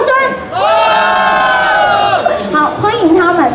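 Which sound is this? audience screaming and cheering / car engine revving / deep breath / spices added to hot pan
audience screaming and cheering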